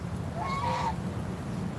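A goose honks once in a short nasal call, close and fairly loud over a steady low rumble of background noise.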